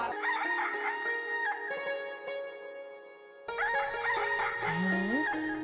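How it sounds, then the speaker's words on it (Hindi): A rooster crows loudly and up close, its call rising and falling over a dense bed of background music, with a short pause before the music resumes. "दिन निकल आया क्या? मुर्गा बोल रहा है।"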